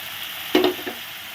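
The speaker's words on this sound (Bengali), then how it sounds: "কষিয়ে নিচ্ছি দেখো মশলাটা সুন্দর কষানো হচ্ছে" Spice paste for a vegetarian dhokar dalna stir-fried in a pan: a steady frying hiss with a short burst of scraping and sizzling spatula strokes midway, close and alone.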